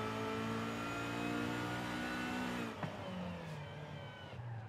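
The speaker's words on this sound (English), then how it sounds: "Have it hit the rev limiter a little quicker." A 1993 Nissan 240SX SE in Forza Horizon 5 holds a high, buzzing rev against the limiter, then drops sharply and settles back to a lower, steady drone.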